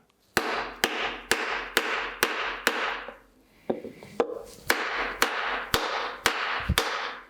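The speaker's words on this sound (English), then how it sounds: "So I've just got a copper hammer." Sharp metallic copper hammer taps on a cylinder liner in a Ferguson 23c engine, about a dozen evenly spaced blows with ringing tails, a brief pause midway, close and loud.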